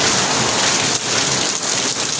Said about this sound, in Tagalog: Dahil sa lakas ng buhos ng ulan